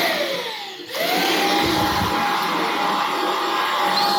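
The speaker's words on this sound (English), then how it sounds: "now if someone starts vacuuming" A household vacuum cleaner starts up and runs steadily and loudly, its broadband whine with a high motor tone drowning out a television playing quietly in the same room; no one speaks.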